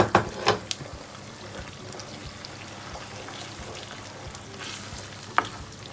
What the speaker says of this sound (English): To allow the tin tomatoes, the tomato paste cook, I'm going to also add it to the mixture, and I'll stir generously.